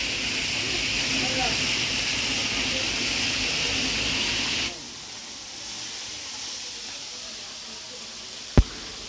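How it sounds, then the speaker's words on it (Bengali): Hilsa fish frying in hot oil at a riverside eatery at Mawa ghat on the Padma, a steady broad hiss that runs loud for several seconds, then drops to a quieter sizzle, with a sharp click near the end. "ওরা এখন সেই ইলিশ মাছ, লোভনীয় সেই ইলিশ মাছকে ফ্রাই করছে খুব সুন্দর করে"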